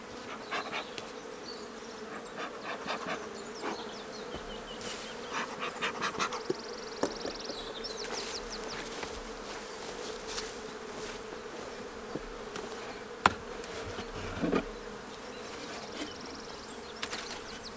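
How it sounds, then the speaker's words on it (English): Honey bees buzzing in a freshly smoked, opened hive during a split into two nucs, a close steady insect hum with scattered louder passes of individual bees. "So we've got plenty of bees here"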